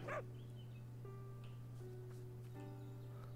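In the farming video game Everdream Valley, a dog gives one short, sharp yip at the start, then a steady electronic hum and soft game tones continue without voices.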